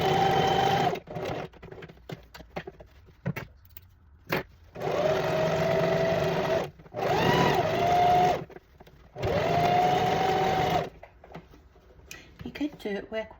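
A sewing machine stitches along the very edge of fabric for an angel gown cocoon with sequins and beads, running in three sustained bursts separated by pauses, with a voice talking in the gaps.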